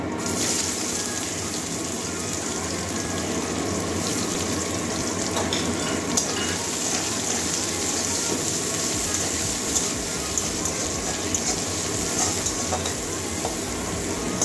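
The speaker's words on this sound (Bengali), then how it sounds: "পেঁয়াজটাকে ভালো করে ভেজে নেবো, লাল লাল কাঁচা গন্ধ যাওয়া পর্যন্ত" Chopped onion fries in hot oil with whole cumin seeds, producing a dense, continuous sizzle with faint crackles that holds steady and fairly loud for the whole stretch.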